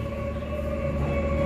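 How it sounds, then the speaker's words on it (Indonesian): Steady ambience inside Bandung railway station in Indonesia on an evening: a continuous low rumble and hum with sustained tonal whines, moderately loud and unbroken, with no voices. "Stasiun Kereta Api Bandung."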